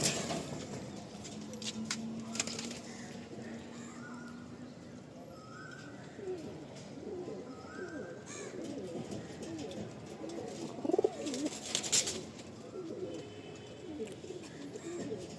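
A pair of Abluk pigeons in a loft cooing softly in low repeated phrases, with faint rustling and a few brief chirps; a voice talks intermittently at times.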